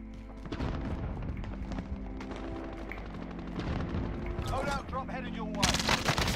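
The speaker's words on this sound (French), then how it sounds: "on se fait snipe de l'autre côté au niveau du shop" Gunfire in Call of Duty Warzone on Rebirth Island, with dense game combat sound carrying steadily under excited player voices and a louder burst of shooting near the end.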